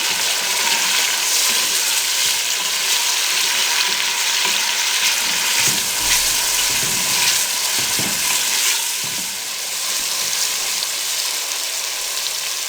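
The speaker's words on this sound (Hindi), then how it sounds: "टमाटरों को 3 से 4 मिनट अच्छी तरह भून लें।" Tomatoes frying with onions in a pan, a steady loud sizzle running throughout with occasional soft stirring movements underneath.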